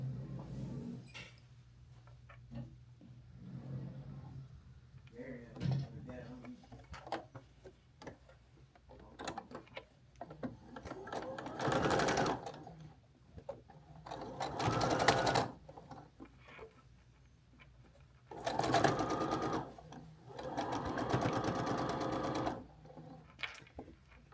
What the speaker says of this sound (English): Now we're going to sew this block, this top block, right to it, like this.